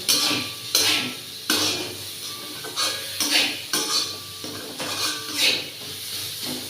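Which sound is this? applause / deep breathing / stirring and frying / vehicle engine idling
stirring and frying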